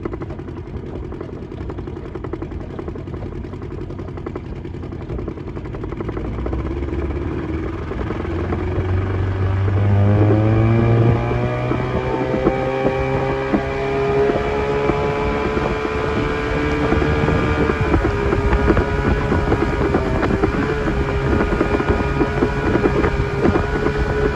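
An old Evinrude 20hp outboard motor runs on a boat as a steady, droning engine. Its pitch climbs midway as the throttle opens, then holds a strong, even whine over wind rumble.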